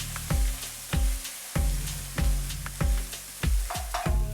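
Chopped onions frying in hot oil, about four tablespoons' worth, give a steady close sizzle broken by a regular series of sharp clanks and scrapes from stirring against the pan.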